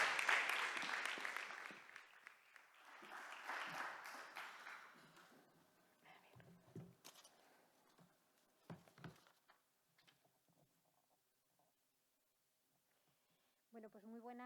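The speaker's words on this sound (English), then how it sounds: "So a warm round of applause," An audience claps for a speaker at a talk on ecofeminism and environmental and human rights, with moderate applause that tapers off, then scattered shuffling and a voice beginning to speak at the end.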